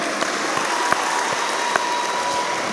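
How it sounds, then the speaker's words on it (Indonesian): An audience applauds at a sharing session, a sustained even patter of many hands clapping with a few sharper claps popping out, no talking over it. "Perlu diapresiasi, tepuk tangan ya."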